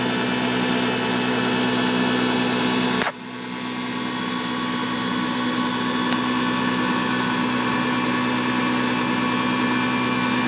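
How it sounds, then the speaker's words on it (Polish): A steady boat engine drone runs continuously on the James River, with a brief dip near the start before the even mechanical hum resumes; no voices are heard. "Na razie na silniku leci."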